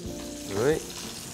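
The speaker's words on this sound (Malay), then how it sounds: "Ikan yang kita goreng ni dah masak." Sardines sizzle in hot frying oil, a steady crackling hiss with a brief scraping stir partway through.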